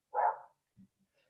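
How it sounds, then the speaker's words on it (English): A single dog bark, short and moderately close, followed by a faint softer yip and a few quiet trailing sounds in an otherwise silent moment. "I can hear the doggos."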